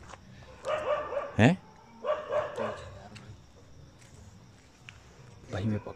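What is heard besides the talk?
dogs barking at night in village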